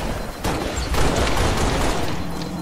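Dense gunfire in Halo Reach, a rapid loud barrage of overlapping shots and booms filling the whole stretch with no pauses, up close and alone without talk.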